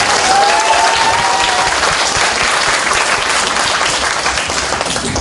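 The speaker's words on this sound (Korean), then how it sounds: "박수 한번 쳐요, 이럴 때." Dense, loud applause from a live audience at a public broadcast recording in Busan, sustained clapping filling the whole stretch with no voice standing out.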